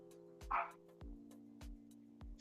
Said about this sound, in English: And my dogs are barking like usual.